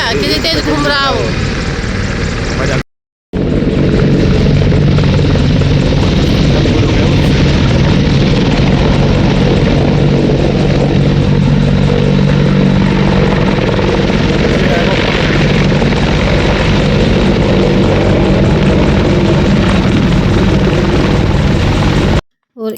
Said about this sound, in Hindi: और एक ये हेलीकॉप्टर आगे की साइड में खड़ा था और हमारे सामने ये उड़ के फिर अपनी लाइन में आके खड़ा हुआ था